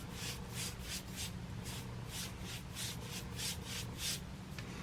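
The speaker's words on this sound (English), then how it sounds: "Take a little brush, brush you some primer on there." A small brush spreads sealer primer over a drywall patch in quick, even back-and-forth strokes, a soft rhythmic scrubbing heard up close and alone.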